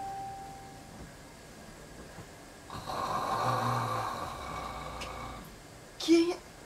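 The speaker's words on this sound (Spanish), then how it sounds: "¡Mira cómo está roncando!" A sleeping person snores in a long, rasping breath under a low background hum, followed by a short snorting burst near the end.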